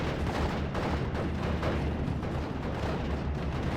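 Heavy wartime battle din from the strategy game Steel Division: Normandy 44, with a German Pak 38 anti-tank gun among the guns firing, a dense, continuous rumble of booms and blasts at steady loudness without distinct separate shots.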